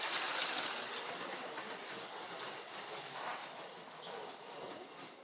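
HO-scale Plymouth Superbird slot car with X-Traction chassis running at full throttle around the track, a steady close whirring rattle of motor and wheels that stays fairly even for several seconds with no talk.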